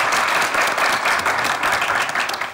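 Loud, dense applause from a studio audience on a Turkish comedy show, continuous clapping throughout with no other sounds standing out.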